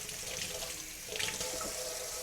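Hot water runs from a kitchen sink tap in a steady hiss and splash, continuous and moderately close with no voices over it.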